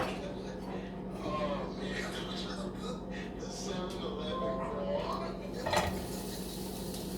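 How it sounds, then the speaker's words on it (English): Chopped onion goes into hot oil in a pan and sizzles steadily with utensil scrapes and clatter, close up, while a voice talks over the frying. "Oil going. Let's put the onion."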